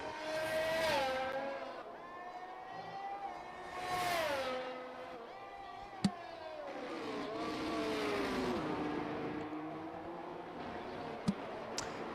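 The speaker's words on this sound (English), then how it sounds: "As we watch the rest of the pack going into turn 1 here on lap 21 of the race" Several race cars from the F1 23 video game sweep into turn 1 at the Canadian Grand Prix on lap 21, a continuous high-pitched engine whine rising and falling with gear changes, steady and loud throughout.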